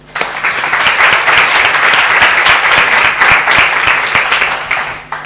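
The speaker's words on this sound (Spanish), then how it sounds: "Un aplauso." An audience at a talk on storytelling and oratory claps loudly and steadily, with distinct individual claps audible across the whole stretch before it tails off.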